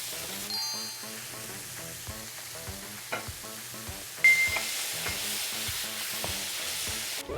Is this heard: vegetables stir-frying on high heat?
yes